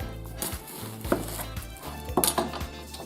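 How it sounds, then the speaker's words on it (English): Knife slicing an onion in half on a cutting board in a home kitchen while paprikash is prepared, a few close knocks and clacks over a low steady background hum. "best way to peel them is to cut them down, cut them in half"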